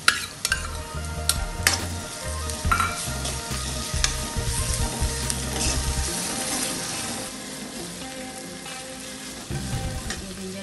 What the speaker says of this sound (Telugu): ఆనియన్ ఫ్రై అయ్యండి. ఇందులో జింజర్ గార్లిక్ వేసుకున్నాం.